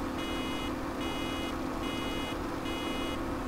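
A pallet filling station in Farming Simulator 17 beeps in a steady repeating pattern, four evenly spaced high tones over a constant low mechanical hum.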